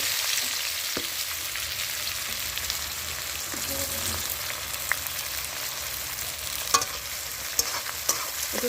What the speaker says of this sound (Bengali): দেখো পেঁয়াজগুলো তেলের ওপর দিলাম